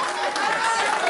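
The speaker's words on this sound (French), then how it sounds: "On applaudit très fort." Wedding guests at a celebration in the USA cheer and applaud in a loud, dense crowd wash, steady throughout with chatter mixed in.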